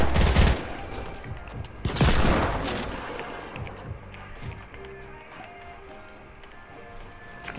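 Gunfire in the video game Fortnite, with a couple of loud, close bursts near the start, followed by fainter shots and game sounds under quiet voices.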